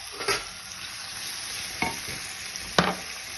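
Chicken meets a hot frying pan with tomato, giving a steady, close sizzle broken by three short bursts of stirring and scraping, with no voices.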